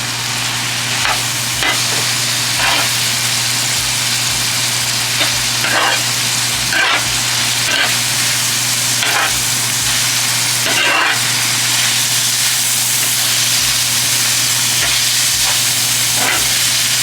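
Peppers fry in a hot pan, giving a loud, continuous sizzle and hiss with occasional soft clinks and stirring scrapes throughout.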